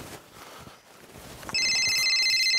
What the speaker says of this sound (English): Oh, I hear my phone ringing.